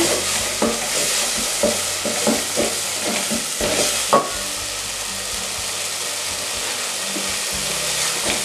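Tomatoes and tomato paste sizzle as they fry in a pan for an egg dish, a utensil stirring them in a run of scraping strokes during the first half before the sizzle settles into a steady hiss.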